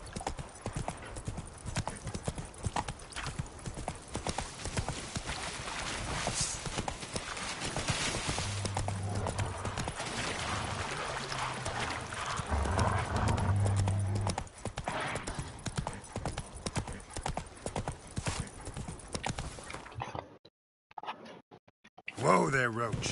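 In The Witcher 3, the horse Roach trots with rapid, rhythmic hoof clip-clops that hold steady for about twenty seconds before breaking off into brief silence, while a voice talks over the hoofbeats.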